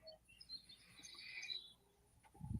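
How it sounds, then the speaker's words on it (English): Birds chirp and sing outdoors on a spring morning, a faint cluster of high tweets carrying on for a couple of seconds before a low thump near the end. "I hear the birds, Larry."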